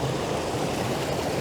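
Waterfall curving round through a landscape, a steady broadband rush of falling water that holds constant and fairly close throughout, with no voices.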